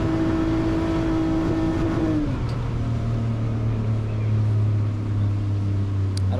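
A BMW E46 drift car on track at a drift competition, its engine droning loud and steady, the pitch dropping partway through as the revs fall, then holding a lower sustained tone, with no voices.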